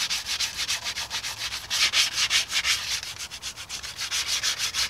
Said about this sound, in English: that filler should be dry enough to just give a little sand to